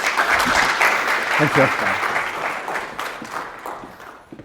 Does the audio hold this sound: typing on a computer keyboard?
no